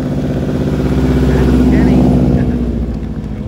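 Race cars, one of them a 2004 Mercedes SL500 R230, roar off the start line together in a loud, sustained engine drone, with a voice speaking over the noise.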